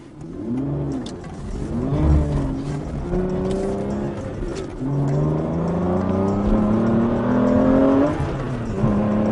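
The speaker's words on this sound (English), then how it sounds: "The 6-liter V12 has 510 horsepower, and it's driving a very lightweight car through the rear wheels." An Aston Martin's 6-liter V12 engine revs and pulls hard, its pitch rising and falling through gear changes, loud and close throughout.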